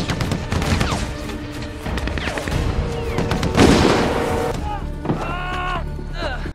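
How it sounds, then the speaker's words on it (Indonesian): Mortar and machine gun fire in a war film, bursts of gunfire and booming impacts layered over rumbling action sound, with a narrator's voice running over it. "Clay berhasil menghabisi musuh yang menembakkan mortir dan senjata mesin ke pos militer"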